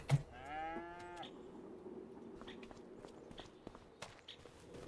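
Beef cattle in Farming Simulator 25 give a loud drawn-out moo at the start, followed by quieter shuffling and stepping noises from the herd.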